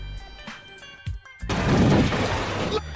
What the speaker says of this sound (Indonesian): truk itu menghantam mobilnya hingga terbalik